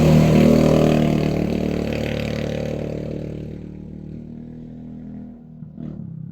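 Several motorcycles pass close by, their engines roaring loudly at first and then fading steadily into the distance, with a small knock near the end.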